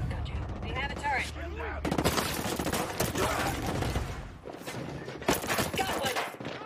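Dense gunfire and heavy explosions in the Ghost Recon Breakpoint video game, with bursts of shots and booming impacts layered under in-game voices shouting during a firefight.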